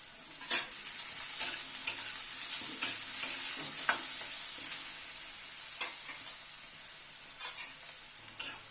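Potato pieces fry in oil with salt and turmeric, a steady bright sizzle punctuated by irregular scraping stirs of a utensil against the pan, close and moderately quiet, no talking.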